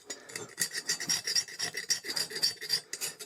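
A knife scrapes rusty steel under flaking paint, giving rapid, gritty rasping strokes up close, steady and dry, with no talking.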